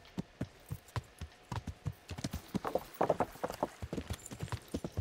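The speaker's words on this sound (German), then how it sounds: "Wir reiten hier unseren Weg nach Ratai." Horse hooves clop in a steady, brisk rhythm while riding along a road in the medieval game Kingdom Come: Deliverance, close and clear throughout with no talk.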